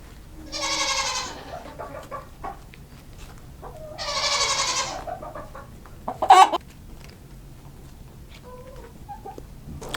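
Two drawn-out bleating calls, each about a second long, with scattered soft clucks from chickens and a short sharp noise between them.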